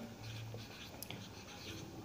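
Faint scratching of writing on a board during a steel structures lecture on fillet welds, soft continuous strokes under a low room hum with no talking.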